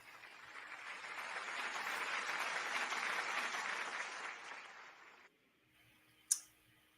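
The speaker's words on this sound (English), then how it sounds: "Clap it up." A burst of applause for a wrestler rises and holds for about five seconds, then cuts off abruptly. A single sharp click follows in near silence.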